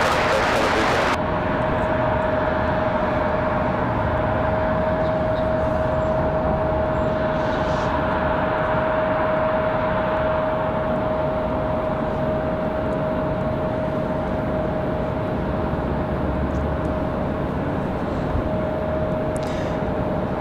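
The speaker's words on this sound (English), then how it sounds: "Up next, an A321 Neo, flying 59 minutes from Atlanta." Airbus A321neo airliner at Raleigh-Durham airport, a continuous loud jet rumble with a steady high tone holding across the whole stretch, no talking.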